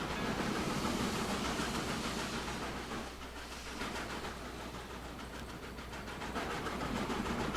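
A video game train from Transport Fever 2 rolls steadily along with a dense, continuous rumble and rhythmic rail clatter, loud and close throughout, dipping slightly midway.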